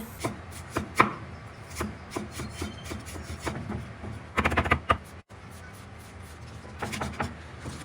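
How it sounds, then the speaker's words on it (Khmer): Knife chopping garlic and ginger on a board for a Khmer pickled dish: irregular close taps and scraping strokes, with a quick burst of rapid chops midway, no talking. "ខ្ទឹមសចង់ចិញ្ច្រាំឲ្យល្អិតក៏បានចិតប្រទះក៏បានដែរខ្ញីក៏ដូចគ្នា"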